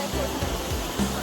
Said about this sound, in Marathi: हे बघा कोसळत्या धारा.